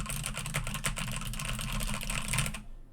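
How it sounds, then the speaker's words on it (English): Rapid, steady clacking from typing on a new linear mechanical keyboard, close and fairly loud, the keystrokes running together in a dense burst before stopping abruptly. "No, I can hear myself type."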